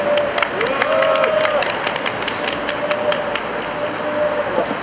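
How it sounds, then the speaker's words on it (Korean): An audience claps at a formal gathering as a speaker is introduced, a steady spread of hand claps that is loud and close at first and then thins out, with faint voices underneath. "박수 한번 쳐주십시오."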